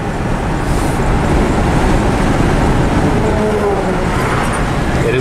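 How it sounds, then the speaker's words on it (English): Steady, loud road and engine rumble from a P71 Crown Victoria Police Interceptor under way, continuous drive noise with no distinct breaks, no talking. "Shifts through the gears all right."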